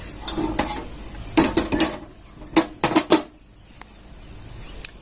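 Metal spoon scraping and clinking against a pan as roasted semolina is transferred into a bowl, irregular sharp clatters in bursts, close and alone.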